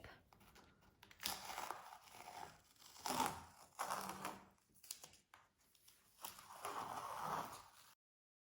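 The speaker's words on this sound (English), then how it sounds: "We can then just very carefully start to peel off the masking tape." Masking tape peeled slowly and carefully off a galaxy-scene painting, a crackly tearing rasp heard in several separate pulls of about a second each, close up and fairly faint, with no talking.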